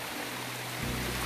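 A small stream serves as a campsite water source in the Appalachian woods, running in a steady, close, even rush. A low hum shifts in pitch partway through.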